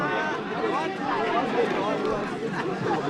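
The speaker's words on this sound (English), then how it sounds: "The crowd cheering him on, trying to get him to shoot." Soccer crowd at a CBC versus Petra match cheering on a free kick taker near halfway, a steady murmuring roar of many voices with shouts rising throughout.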